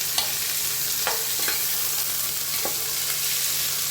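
Onions sautéing in a hot pan for egg biryani give a steady, close sizzling hiss throughout, broken by a few sharp spoon scrapes and taps against the pan.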